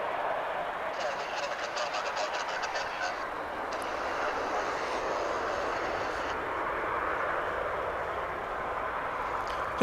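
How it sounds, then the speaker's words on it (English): A McDonnell Douglas MD-11 trijet, built in 1992 and just pushed back by a tug at DFW airport, gives off a steady broad engine roar with a faint higher whine, while distant goose-like honks drift in and out. "An MD-11 Tri-Jet,"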